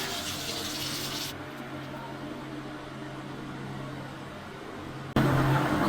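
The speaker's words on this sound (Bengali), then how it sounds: "এবার আমরা ঝোলের জন্য জল দিয়ে দেবো" Water is poured into a pan for a rohu fish curry gravy, making a steady close splashing hiss that runs for several seconds. It cuts off, and then the sizzle of the pan returns loudly.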